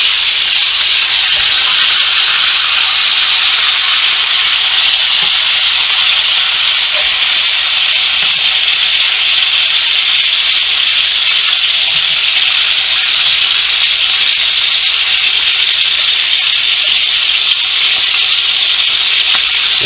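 Steak frying in a pan with butter: a loud, continuous hiss and sizzle that holds steady for the whole stretch, with no talking over it.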